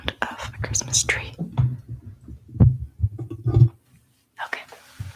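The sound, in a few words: heartbeat heard through thumb holding a book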